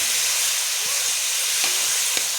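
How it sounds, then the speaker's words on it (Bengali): Cauliflower and potato pieces fry in hot oil in a pan with a loud, steady close-up sizzle and a few light scrapes of stirring, with no talking. "ভালো করে ফুলকপি আলুটা ভাজতে হবে।"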